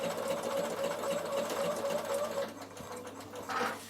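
A sewing machine stitches through felted wool for a door draught stopper, running in a steady, close buzzing whir for about two and a half seconds before slowing and stopping, then a brief mechanical clack.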